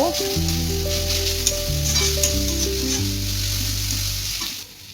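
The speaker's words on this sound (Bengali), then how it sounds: "এরপর এগুলোকে আবার ভালোভাবে নেড়ে চেড়ে ভেজে নেব।" Grated potato and vegetables are stir-fried for semolina upma, producing a loud continuous sizzle with stirring noise, while a melodic tune plays over it and fades out at the end.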